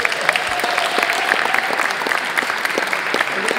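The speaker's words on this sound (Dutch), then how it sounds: "Graag een hartelijk applaus voor ons panel." An evening audience at an art and media event applauds a panel, a steady patter of many hands clapping at moderate distance with no voices on top.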